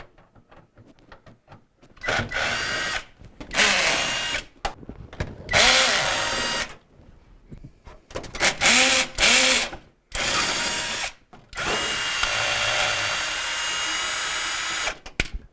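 A power drill fitted with a quarter-inch nut driver backs screws out of a GE refrigerator panel in repeated whirring bursts of one to three seconds, separated by short pauses and faint clicks, close and loud.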